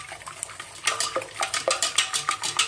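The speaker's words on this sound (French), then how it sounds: "vous mélangez comme ceci vos 4 œufs au fouet à main" Rapid, rhythmic clinking and scraping of a hand whisk beating four eggs in a bowl, close and fairly loud, with regular strokes after a quieter start.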